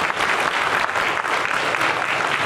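Sustained, dense applause from a church congregation at a Mother's Day service honoring elderly mothers, loud and continuous throughout without speech.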